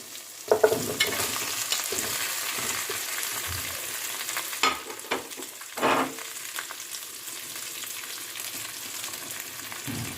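Ginger and mixed vegetables for a Bengali labra fry in oil and are stirred, a soft, steady sizzle with occasional louder scrapes and knocks of a spatula against the pan.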